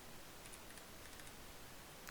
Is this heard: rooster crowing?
no